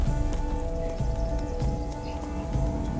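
Roach the horse in The Witcher 3 clip-clops along with steady, close hoofbeats, a few snorts and faint game music underneath.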